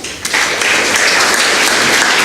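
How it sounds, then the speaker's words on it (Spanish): Applause for a doctor receiving a certificate at a ceremony, a crowd clapping loud and close, starting after a brief quiet moment and holding steady to the end. "Un aplauso para el doctor"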